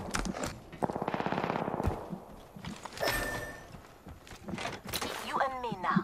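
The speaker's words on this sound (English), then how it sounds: "I am taking fire, friends." Gunfire in the Apex Legends video game, with a rapid burst of automatic fire followed by scattered shots and game effects, while people talk over it.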